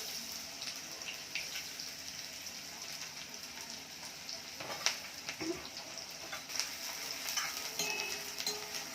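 Cumin seeds sizzle and crackle in hot oil in a pan while Indian dal and rajma are being cooked, a steady close fizzing hiss with occasional stirring scrapes and pops.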